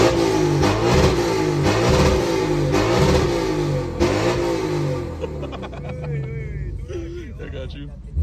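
A Lexus RC F engine with full bolt-ons revs loudly and repeatedly nearby, surging and dropping in pitch, with a voice talking over it.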